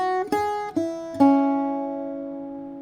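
Irish bouzouki picks a short phrase of notes in two quick groups, bright ringing strings with the last note sustaining and fading slowly, played alone without talk.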